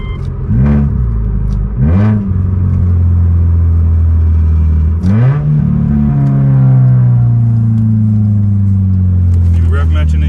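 Subaru Outback with an automatic transmission revving hard in rev-matching bursts, three sharp rising-and-falling engine blips followed by a sustained loud drone, heard from inside the car.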